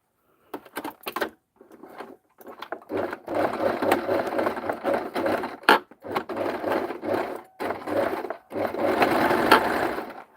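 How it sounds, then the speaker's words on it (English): A sewing machine stitching fabric in bursts, close and loud, with a fast mechanical whirr that starts and stops several times with brief pauses and a longer final run, and no talking. "I like to stitch."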